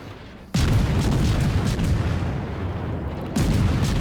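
The Akizuki destroyer's guns in World of Warships fire rapidly in a dense, booming barrage. A sudden loud burst keeps rumbling, dips slightly, then swells again near the end, with no voices.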